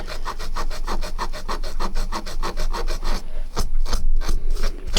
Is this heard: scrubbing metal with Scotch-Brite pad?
yes